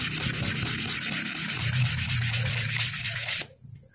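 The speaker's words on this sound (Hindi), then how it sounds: "आपको रेगमाल ले लेना है और रेगमाल से धार बना लेनी है" Sandpaper rubs rapidly back and forth along the angled edge of a pair of scissors, a close, loud rhythmic rasping for about three and a half seconds before stopping abruptly.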